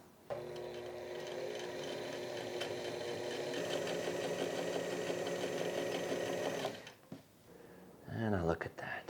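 A sewing machine hemming the sleeve of a band collar button-up shirt, running in one fast, steady, close stitching drone for several seconds, then stopping as a voice briefly speaks.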